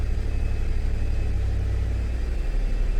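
A 2008 GM 1500 truck with the 5.3 engine runs at a steady raised idle around 1600–1700 RPM, a continuous close, even rumble with no other sounds.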